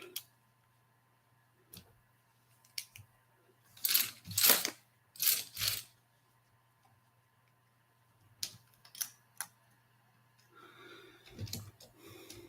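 Small plastic building bricks being handled and sorted, with scattered light clicks and a few louder rattling bursts of pieces knocked together, close by and without talk.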